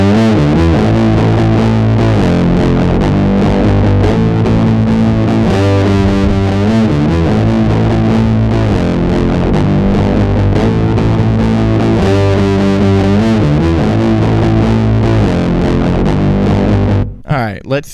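A trombone played through a Big Muff fuzz pedal, thick and buzzing with heavy distortion, sustaining loud chords that shift pitch, then stopping abruptly at the end.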